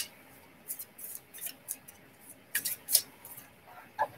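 Tarot cards being shuffled, faint soft flicks and riffles coming in scattered bursts with small sharp snaps, quiet and close over a low background hiss.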